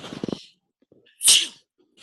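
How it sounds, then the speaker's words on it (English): A single sharp sneeze bursts out, preceded by a brief bit of talk and a short pause, close and loud in a quiet room. "I'm going to sneeze"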